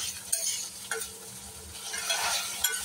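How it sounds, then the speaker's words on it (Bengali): Paneer and potato frying in a pan, a steady broadband sizzle with occasional sharp stirring scrapes, close and continuous with no talking. "ভালো করে পনিরটা আলুটা ভাজা হচ্ছে, ভাজা হোক"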